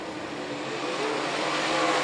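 Super sedan race cars at Bunbury howl down the main straight in a dense, continuous engine roar that swells slightly as the pack closes in. No voices.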